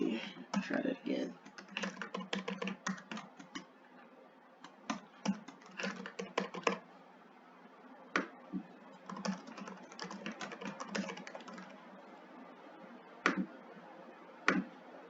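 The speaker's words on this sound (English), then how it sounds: "If I can type properly." Someone types on a computer keyboard, close and crisp, in bursts of rapid clicks broken by pauses and single sharp keystrokes, with no voice over it.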